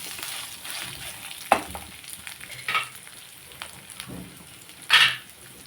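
Ginger pieces fry on a low flame for chutney, a close crackling sizzle broken by a few louder spitting bursts and stirring scrapes, with no talking.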